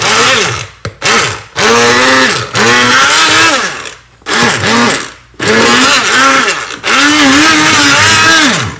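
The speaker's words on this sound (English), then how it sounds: "So I've got this immersion blender. I'm just going to put it inside and blend it until it's smooth." An immersion blender purées cauliflower soup in a pot with loud, close motor whines that rise and fall in pitch through several separate bursts, broken by brief pauses between pulses.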